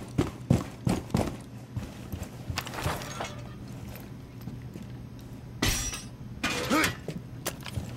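Glass shatters with a bright crash in the video game Rainbow Six Siege, Plane map, amid gunfire, footsteps and other in-game noise; a second burst of breaking follows moments later, with a voice briefly talking.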